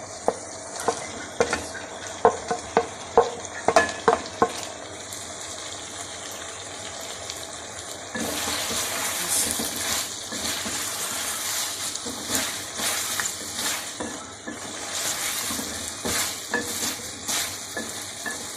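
Capsicum and carrots go into a pan of chicken already frying with soy sauce, chili sauce and vinegar, first with sharp scraping stirs, then a louder, fuller sizzle and hiss with steady stirring.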